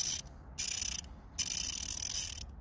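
Michael Pro 90-tooth dual pawl ratchet clicking in quick, fine bursts, three separate runs of rapid ticking close up with short pauses between them, no talk.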